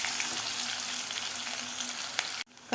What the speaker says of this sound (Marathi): कांदा सुद्धा आपल्याला व्यवस्थित परतून घ्यायचा आहे.